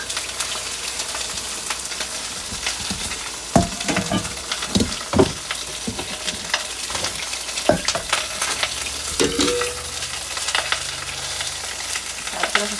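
Tomatoes fry in a pan with a steady hissing sizzle and scattered sharp stirring knocks and scrapes, close and moderately loud, no voices.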